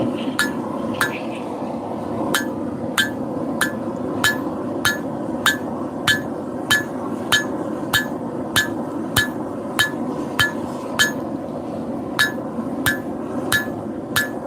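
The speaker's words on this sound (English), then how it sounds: "Forging in some bevels in there too." Hammer blows forging bevels into a steel knife blade, a steady series of about twenty sharp ringing strikes spaced roughly every half second over a continuous low roar, likely from the forge.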